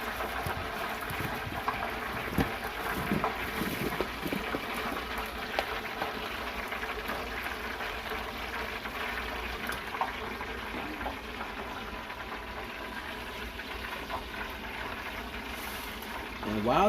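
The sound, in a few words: french fries frying in hot oil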